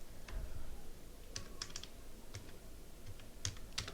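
Keystrokes on a computer keyboard, typed in short uneven bursts of close clicks over a faint room hiss, with no talking.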